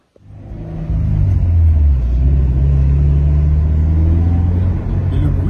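A Toyota GT86 sports car engine starts with a quick catch, then revs up into a loud, deep, steady rumble that holds close by.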